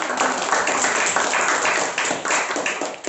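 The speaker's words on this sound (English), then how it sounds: "Can we have a huge round of applause for us?" Audience applause at a speakers forum, a dense, steady wash of clapping from a room of people that holds at an even, fairly loud level for about three seconds with no break.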